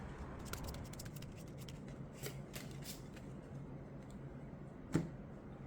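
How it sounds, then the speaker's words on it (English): A deck of cards for the solo board game Friday is shuffled close up, a rapid riffling flutter of card edges running for several seconds, ending in a sharper snap, with no talk. "We're shuffling that aging card in without looking."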